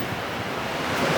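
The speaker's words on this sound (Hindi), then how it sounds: "ये देखें अभी भी नीचे से पानी गुज़र रहा है रोड के ऊपर।" Rainwater runs across a road in Makkah after about twenty minutes of heavy rain, making a steady, broad rushing wash that stays continuous and fairly close, swelling slightly toward the end with no voices.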